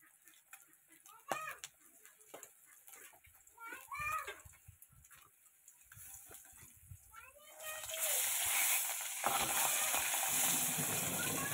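A piece of fish fries in a pan in a home kitchen. Voices, including a child's, talk at first, then a loud, steady sizzle and spatter rises and fills the last few seconds.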